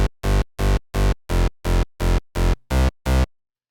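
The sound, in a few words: UK hardcore rave bass synth patch made in Harmor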